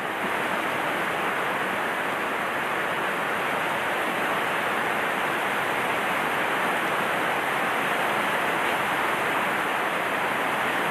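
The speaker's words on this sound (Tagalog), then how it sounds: "Malakas yung ulan." Heavy typhoon rain pours down in a dense, unbroken hiss that stays loud and even throughout, with no voices or pauses.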